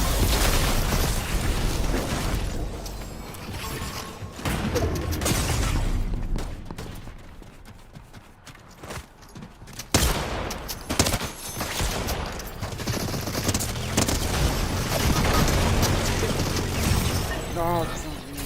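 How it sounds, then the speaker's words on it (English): Minigun fire in the Fortnite video game, loud dense bursts and booms with busy game noise, continuous for much of the stretch with a quieter gap midway. "ils sont le minigun"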